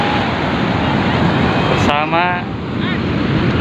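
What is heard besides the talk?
waves and wind at Karapyak beach, Pangandaran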